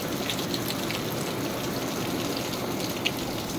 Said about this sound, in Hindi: आज हमारा रुद्राभिषेक है और यहाँ इतनी बारिश हो रही।